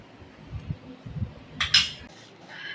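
Quiet room with soft low clatter, then a few bright metallic clinks and scrapes of cutlery against plates near the end.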